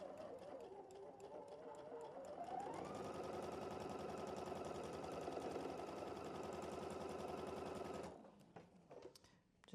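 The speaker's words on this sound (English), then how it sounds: "I want to sew these together" A home sewing machine stitches quilt block pieces together, its motor starting softly, then running in a steady loud whirring run for several seconds before stopping abruptly.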